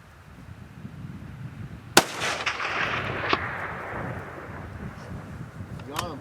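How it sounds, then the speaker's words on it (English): A single sharp rifle shot rings out during a grizzly bear hunt in the Alaskan wilderness, with a long rolling echo trailing after it and a fainter crack near the end over soft outdoor background noise. "I'm going to shoot."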